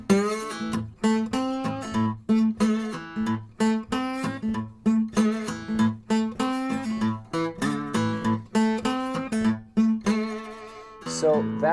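Guitar riff with the sixth string brought into the pattern: rhythmic, punchy strummed and picked notes with low string accents repeat steadily for several seconds, close and loud, with no talking.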